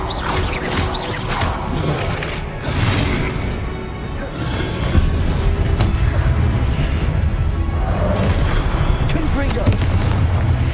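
Incendio fire spells cast in Hogwarts Legacy burst as loud, dense booms and whooshing blasts that layer into continuous battle noise, with repeated impacts and a shouted voice calling out spells over it.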